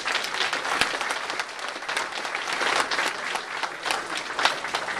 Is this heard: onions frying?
no